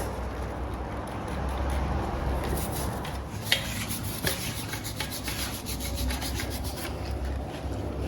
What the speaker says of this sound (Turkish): Ara ara mazot sıkıp fırça ile temizliyoruz.